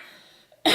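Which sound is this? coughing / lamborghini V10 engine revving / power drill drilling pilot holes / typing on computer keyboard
coughing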